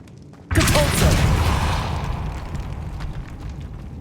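A Depulso force spell bursts in Hogwarts Legacy with a sudden loud blast, then a long rumbling roar that slowly fades over several seconds.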